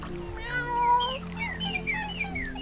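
A cat meows repeatedly inside a peaceful video game set on a tiny island, its rising and falling calls close and clear over a steady soft musical background.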